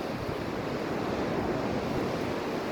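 Sea surf washing steadily onto a shore, a continuous broadband roar with no distinct breaks, loud and close with some wind noise, no voices.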